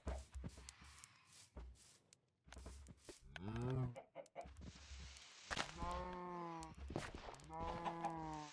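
Chickens in the video game Minecraft cluck in short, repeated burbling calls, several bursts in a row, close and fairly clear amid scattered game clicks and steps.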